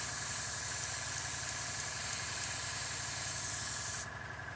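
An airbrush sprays during a clean-out after painting a 1/48 scale model, giving a loud, steady, close hiss with an engine-like hum beneath that cuts off sharply near the end, leaving a quieter hum.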